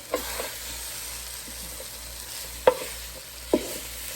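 Beef stew with flour is stirred in a Ninja Speedi pot, giving a soft sizzle under occasional utensil scrapes and two sharp knocks against the pot, close and without talking.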